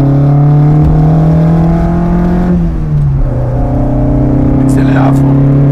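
The engine of an Alpine Berlinette A110 revs hard at full throttle on the Montlhéry circuit, a loud droning whine that climbs, dips briefly at a gear change and climbs again, with a voice speaking over it.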